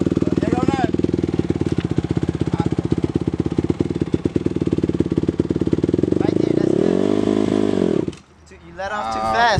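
A dirt bike engine runs nearby, a loud rapid putter with uneven throttle that revs up, then drops away sharply before picking up again, with voices talking over it.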